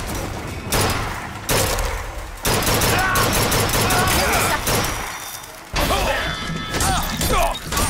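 Carbine fire in Bioshock Infinite: loud, close bursts of rapid shots with heavy impacts and crashes, separated by brief pauses and layered over busy game noise.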